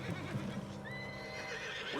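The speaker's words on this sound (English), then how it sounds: "What's wrong with this horse?" A horse in the video game Red Dead Redemption 2 gives a brief, fairly quiet neigh and whinny over faint ambient background noise.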